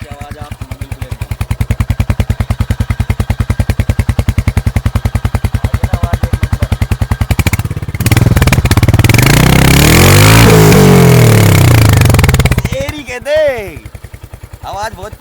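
A Royal Enfield Hunter 350 motorcycle idles with a steady thumping beat close by, then revs hard into a loud, sustained roar before dropping back toward idle, with a few sharp blips at the end.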